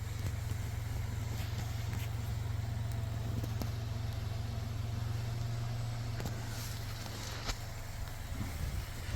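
A car's engine runs at a steady low rumble throughout, with a few faint clicks and knocks over it. A police call-out is going on nearby, and no one speaks.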